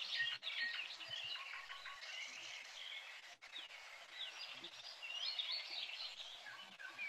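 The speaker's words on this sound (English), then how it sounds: "Chirping of birds." Recorded birdsong is played back during an online language class: busy, overlapping chirps and tweets from several birds, quiet but continuous throughout, with no talking.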